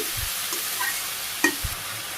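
Water lily stems sauté in oil in a pan, giving a steady close sizzle with a couple of soft spatula stirs and scrapes, and no talk.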